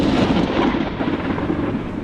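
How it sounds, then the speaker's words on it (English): Thunder from a rare Oregon thunderstorm rolls as a deep, loud rumble, swelling and fading across the whole stretch, with no voices over it. "There was a thunderstorm that night, which is extremely rare for Oregon, but it does happen."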